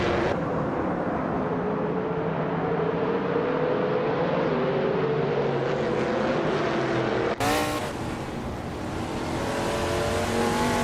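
Race cars lapping the Snetterton 300 circuit, several engines revving and shifting through gears close together, with a sharp loud pass-by midway followed by more engines winding up, and no talking.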